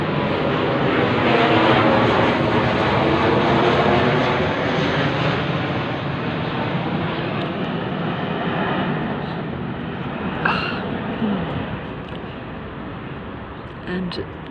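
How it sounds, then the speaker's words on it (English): A fixed-wing airplane passes over a Sydney suburb, a loud broad engine roar that swells early and then slowly fades, with a few faint knocks near the end. "the plane is going to follow me all over the suburb"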